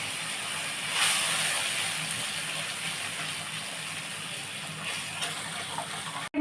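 A turmeric and chilli spice paste with salt fries in a pan, giving a steady close hissing sizzle that holds throughout with slight swells and a brief clatter at the end.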